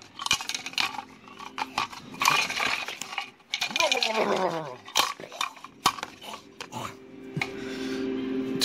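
Dice rolling and clattering across a surface for a graphic novel dice roll, a run of short rattling impacts and scrapes, close and fairly loud, with a few separate clicks afterward.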